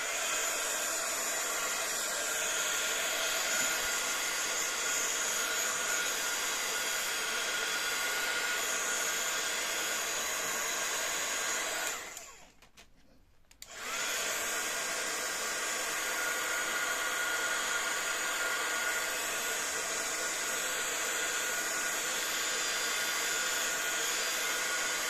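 A hair dryer blows a steady, loud, close whooshing roar over a handmade 3D tunnel card, cutting out briefly around the midpoint before resuming just as strongly.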